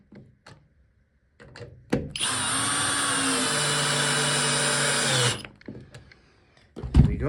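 A power tool drives longer screws through a loose door hinge into fresh timber, a loud, steady whirring burst of about three seconds, with brief handling knocks before and after.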